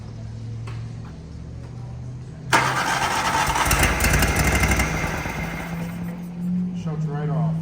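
A Toro Wheel Horse lawn tractor engine bursts into a loud, close, rattling run for a few seconds, then cuts out and winds down, with a person talking before and after.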